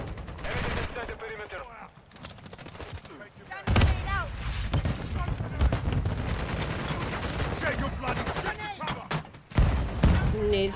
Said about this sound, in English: Nades everywhere.